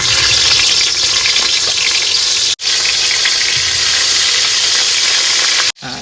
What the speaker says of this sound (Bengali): তেল গরম হয়ে গেছে, এবার কিন্তু মাছ এক এক করে দিয়ে নেবো